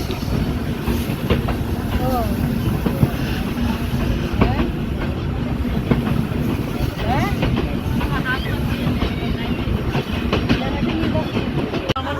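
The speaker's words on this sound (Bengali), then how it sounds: "চিত্রা এক্সপ্রেস মিরপুর স্টপেজ দিয়ে ছাড়লো" The Chitra Express pulls out of Mirpur station, its wheels clattering on the rails in a continuous loud rumble with repeated clicks and squeals, and a voice speaks at times over the noise.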